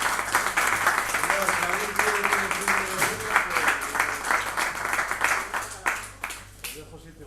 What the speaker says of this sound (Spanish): así que despedimos con un aplauso a esta buena gente